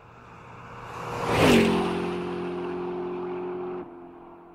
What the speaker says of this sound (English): A car zooms past you.